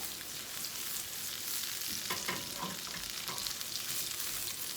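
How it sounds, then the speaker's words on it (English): Food frying in a pan on a stovetop, browning as it cooks, with a steady close sizzle throughout and a few brief stirring or jiggling bursts midway. "Cook those in there, get it a little brown."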